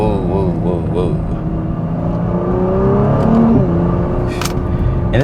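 A 2021 Nissan GT-R Premium's turbocharged 3.8-liter V6 pulls hard in second gear, its loud engine note climbing steadily in pitch with a rising whine.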